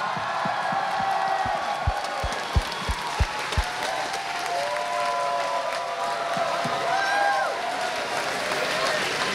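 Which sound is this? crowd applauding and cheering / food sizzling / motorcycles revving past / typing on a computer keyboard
crowd applauding and cheering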